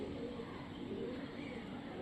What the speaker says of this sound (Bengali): মাশাল্লাহ মতি চোখের কবুতর।